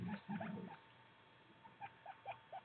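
Guinea pigs shuffle around their enclosure in a quiet room, making faint soft pattering and a few tiny squeaks and rustles in brief bursts.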